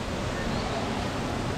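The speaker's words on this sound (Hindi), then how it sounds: "अभी भी बारिश हो रही है।" Steady light drizzle falls outdoors after three days of continuous rain. It makes a soft, even hiss with no distinct drops, faint and constant throughout.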